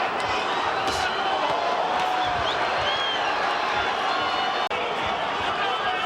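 A big crowd at a boxing exhibition roars and cheers continuously, a dense, steady wall of noise with occasional shouts rising above it.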